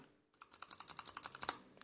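A rapid run of crisp, close keystrokes from a Razer Huntsman Elite mechanical keyboard, about a dozen sharp clicks in quick, even succession, alone without talk.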